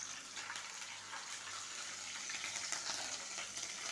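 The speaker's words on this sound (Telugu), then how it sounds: "కొంచెం ఆవాలు వేసాను" Mustard seeds sizzle in hot oil at the start of a chicken curry, a steady, faint crackling hiss running evenly throughout.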